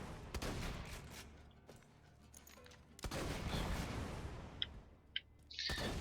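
A Torgue shotgun in Borderlands 2 fires explosive rounds: loud blasts and booming detonations, then bursts of crackling blast noise and a few sharp pops, with no speech.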